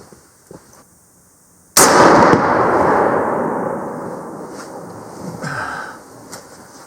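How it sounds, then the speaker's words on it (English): A single loud rifle shot from a .307 firing a Barnes Original 190-grain bullet outdoors in the Yukon, a sharp crack followed by a long rolling echo that fades over several seconds. "Barnes, 190 grain, 30 bullets in a 307."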